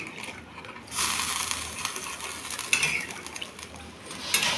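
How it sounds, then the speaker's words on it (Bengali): Hot water goes into a pan of Bengali fish curry, giving a steady, hissing pour with light metallic scraping and clinks from the pan. It runs loud and close for several seconds. "এই গরম জলটা দিয়ে দিলাম,"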